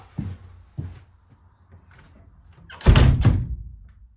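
A boat's bow doors swing shut: two lighter knocks first, then a loud, heavy double slam with rattling close by, all without any speech.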